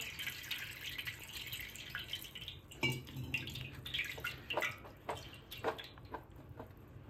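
Water is poured over grapes sitting in a sieve to wash them, a soft splashing and dribbling trickle with scattered drips and small splatters, fairly quiet and close, with no voices.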